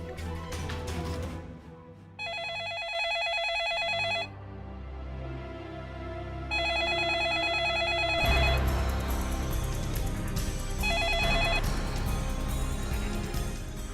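A telephone rings in repeated electronic bursts, each trilling pattern lasting about two seconds with gaps between, set against a dramatic music score swelling underneath.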